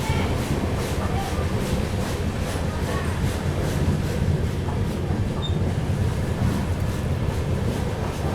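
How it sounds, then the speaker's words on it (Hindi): The 12141 Patliputra Superfast Express runs through Katni South station without stopping, giving a steady, loud rumble and rattle of wheels on rails from on board. "ट्रेन जो है अपनी कटनी साउथ रेलवे स्टेशन को स्किप कर रही है यहाँ पर।"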